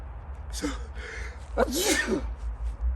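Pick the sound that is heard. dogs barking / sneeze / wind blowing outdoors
sneeze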